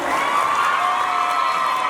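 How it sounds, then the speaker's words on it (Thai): A packed crowd at a shopping mall opening in Nakhon Sawan cheers and applauds celebrities Bella Ranee and James Jirayu, a dense, steady roar of shouts and clapping that holds loud throughout. "วันนี้ขอเสียงปรบมือดังๆกับเจมส์จีแล้วก ็เบลล่าเลยครับผม"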